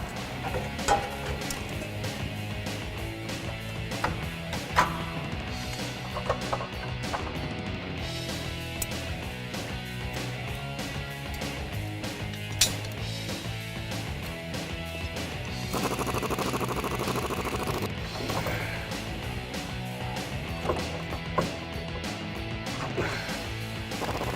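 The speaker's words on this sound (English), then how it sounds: "Next, we're going to remove the lower sway bar bolts." Lower sway bar bolts on a Jeep Wrangler TJ are worked loose during a suspension lift install, with repeated ratcheting, metallic clanks and knocks from tools on the bolts continuing throughout at close range.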